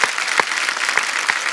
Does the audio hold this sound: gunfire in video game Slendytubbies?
no